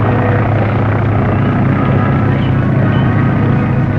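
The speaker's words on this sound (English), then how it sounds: "Plane reported heard in difficulty above the clouds at 11 p.m." A 1930s airplane engine drones steadily and loudly overhead, a continuous deep propeller roar with no breaks and no voices.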